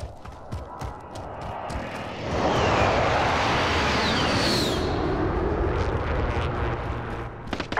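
A video-game airstrike run: a low aircraft engine roar swells in suddenly and stays loud with rumbling blasts, after scattered sharp impacts at the start.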